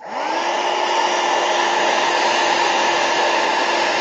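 A hair dryer runs steadily at close range, drying a freshly painted craft piece with a constant loud whir and a steady tone after a quick spin-up at the start.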